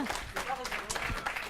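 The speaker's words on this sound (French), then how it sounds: "applaudissez" A brief patter of audience applause at a video game journalism conference, moderately loud, with voices mixed in over the short burst of clapping.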